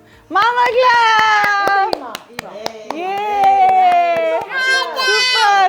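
A steady run of sharp hand claps plays under a young child's loud wailing and sing-song vocalizing.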